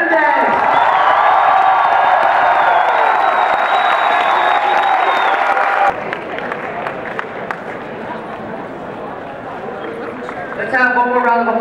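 Crowd at the 2013 World Rubik's Cube Championship applauding and cheering for 3x3x3 world champion Feliks Zemdegs from Australia, loud and sustained at first, then thinning to scattered clapping with an announcer talking over it.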